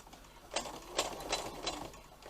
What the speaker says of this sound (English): So just baste them in nice and slow